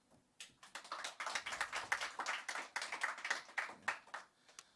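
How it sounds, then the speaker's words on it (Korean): Audience clapping to welcome a lecturer at a special lecture on Saam acupuncture at a national school for the blind: a fairly quiet room of people clapping steadily with uneven, overlapping hand claps that fade out at the end. "먼저 박수로 한번 환영해 주십시오"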